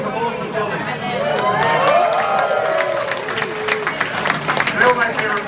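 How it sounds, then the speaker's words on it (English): A convention crowd at Star Wars Celebration 2016 bursts into loud applause and cheering, with whoops and clapping that swell steadily and hold throughout. "get a round of applause for some awesome guildies"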